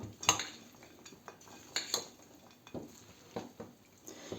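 A spoon clinks and scrapes against a bowl in irregular taps, with soft mixing sounds in between as a beetroot salad with olive oil is stirred, close and fairly quiet.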